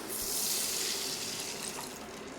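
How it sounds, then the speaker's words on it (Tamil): Water pours in a steady rushing stream into a cooking pan for egg noodles, a continuous hiss with no voices. "இப்போ தண்ணி சேர்த்துக்கலாம்"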